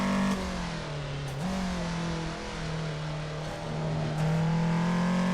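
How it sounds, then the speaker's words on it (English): A Toyota AE86 engine holds high revs on a race track, a steady loud drone that dips and climbs slightly as the throttle is worked, heard from inside the car with no talk. "Just stepping on the throttle there, just trying to keep the wheels spinning, trying to keep the revs up."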